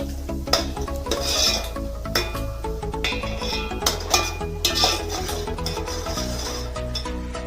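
Rasping, scraping strokes of a spoon stirring Agri mutton masala frying in hot oil, with occasional clinks against metal over a steady low hum.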